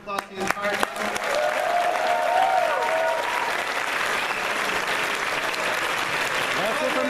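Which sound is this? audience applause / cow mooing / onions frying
audience applause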